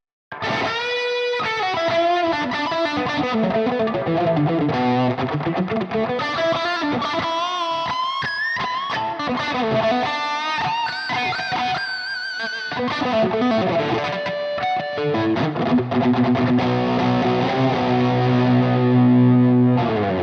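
A heavily distorted Ibanez AZES40 electric guitar plays continuously for about twenty seconds, with sliding chords and sustained gritty notes, loud and alone.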